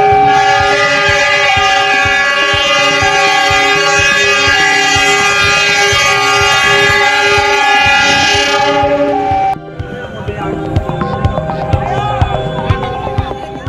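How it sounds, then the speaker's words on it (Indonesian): A locomotive without carriages, heading from Kota Lama toward Malang station at a level crossing, blasts a loud, sustained multi-tone horn for about nine seconds before the horn cuts off, leaving rumbling rail and crash-like clatter, with a voice speaking over it. "kereta api tanpa gerbong dari arah Kota Lama menuju stasiun Malang sudah membunyikan klaksonnya"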